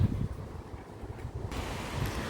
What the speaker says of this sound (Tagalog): Pakita ko sa inyo yung dagat ngayon.